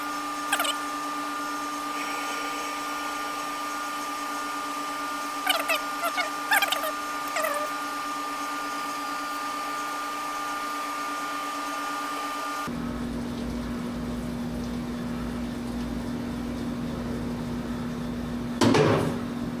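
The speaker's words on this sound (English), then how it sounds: "Turn the coolant on, make sure we got good flow." A HAAS CNC machine runs with coolant flowing, a steady mechanical hum that shifts to a lower drone partway through, with a few brief clanks and rattles.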